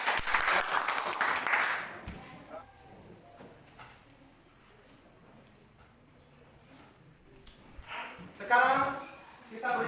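A class of students clapping during an Indonesian teacher-training lesson, a short round of applause at the start that fades into quiet, followed later by people talking.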